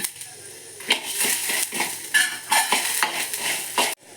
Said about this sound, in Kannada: 1 ಟೇಬಲ್ ಸ್ಪೂನಷ್ಟು ಜೀರಿಗೆ, ಎಲ್ಲವನ್ನು ಒಟ್ಟಿಗೆ ಹಾಕಿಬಿಟ್ಟು ಫ್ರೈ ಮಾಡೋಣ.